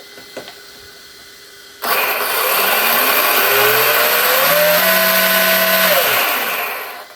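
A Rlaarlo P12 RC rally car's electric motor spins up to full throttle, a steady high whine rising in pitch, holding near its peak for a few seconds, then dropping away, close and loud with no talking.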